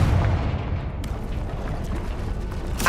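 Confringo fire spell blast in Hogwarts Legacy on PC, a loud continuous rumbling explosion with crackling noise filling the whole moment and a sharper burst about a third of the way in.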